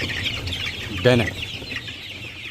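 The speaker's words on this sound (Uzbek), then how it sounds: "Mana shunaqa jo'jalarimiz kimga kerak bo'lsa, ana" Young chicks for sale in Namangan cheep in a steady, high-pitched chorus, with a brief voice cutting in near the middle.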